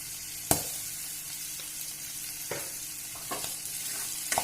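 Chilies crackle in hot oil with turmeric powder while preparing a Kerala-style white lime pickle; a soft steady sizzle with a few sharp pops and stirring clicks, close and alone.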